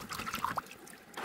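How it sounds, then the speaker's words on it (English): Water splashing and trickling as it washes clay off bedrock while gold panning at a mine, close gurgles and small splashes at a soft level, fading toward quiet before resuming briefly. "So you gotta wash it off so you can release the gold and pan it out."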